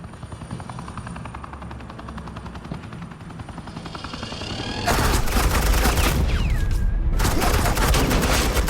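Sustained suppressing gunfire in the video game Batman: The Enemy Within: a rapid machine-gun rattle over a helicopter-like drone that bursts much louder midway into dense, continuous fire with booming impacts.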